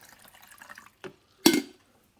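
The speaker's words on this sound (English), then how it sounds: "We're just going to pour in a full 12 cups of water." Water poured into a Hamilton Beach FlexBrew coffee maker's reservoir: a few short, quiet splashes and trickles followed by a louder gush lasting about a quarter second, close by with no talking.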